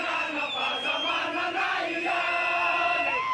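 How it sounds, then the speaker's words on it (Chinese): A large crowd of demonstrators at a protest in Antananarivo, Madagascar, chants and shouts together, forming a dense, sustained roar of many voices with rising calls. "示威民众喊结束独裁、宪法自由"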